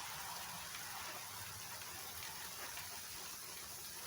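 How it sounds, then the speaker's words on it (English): Steady rain falls outdoors, a continuous even hiss of drops close by with no gaps, running the whole time with no talking over it. "Comes some rain."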